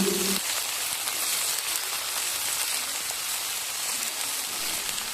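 Chopped vegetables and peas sizzling in hot oil with tempering spices for a cauliflower-stem dish, a steady loud hiss of frying throughout with a brief tonal clink near the start.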